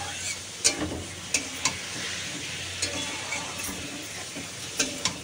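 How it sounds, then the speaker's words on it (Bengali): Minced meat sautéed in hot oil in a pan sizzles steadily up close, with sharp scrapes and clicks of a stirring spoon against the pan every second or so and no speech. "এবার এটাকে সুন্দর করে আমি কষতে থাকবো"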